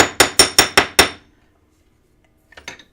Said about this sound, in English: So we're going to flatten our wire just a little bit.